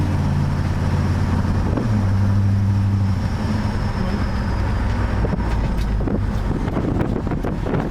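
Steady engine rumble and low road noise from a car driving along, continuous and fairly loud with wind buffeting over the microphone and gear-change shifts in the low drone.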